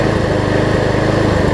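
A Craftsman self-propelled lawn mower runs on a newly fitted carburetor, its small engine chugging loud and steady at close range with a fast, even pulse.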